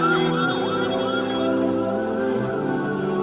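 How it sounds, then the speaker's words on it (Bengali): An ambulance siren wails close by and fairly loud, its rising and falling tone sweeping through the whole stretch with traffic rumble underneath. "ডানে কি অ্যাম্বুলেন্স যাচ্ছে"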